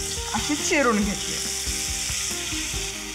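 Spinach leaves sizzle and crackle in a kadhai of hot tempering oil with green chilli and turmeric, bright steady frying with stirring scrapes, while someone speaks briefly.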